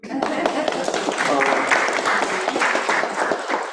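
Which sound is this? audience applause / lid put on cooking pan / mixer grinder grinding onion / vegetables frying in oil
audience applause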